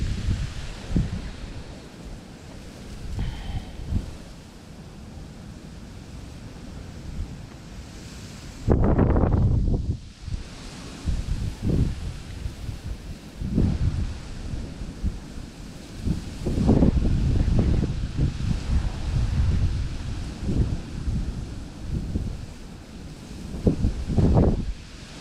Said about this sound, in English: That is a bit gusty.